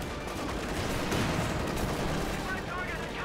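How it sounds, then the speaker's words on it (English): Battle din from Company of Heroes 2 as US bazookas fire on German Panzer IV tanks: dense, continuous gunfire and explosive blasts layered thickly for the whole stretch, loud and steady with no clear gaps. "bazookas firing, but not all penetrating the armor of the Panzer IV"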